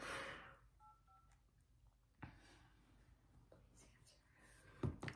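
A phone keypad gives a few short, faint dialing tones amid quiet handling noise and soft voices, with clicks and taps around them.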